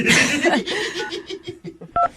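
Telephone keypad dialing tones give two short, clear beeps near the end, right after a burst of snickering laughter and chatter.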